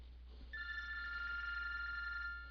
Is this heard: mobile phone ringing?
yes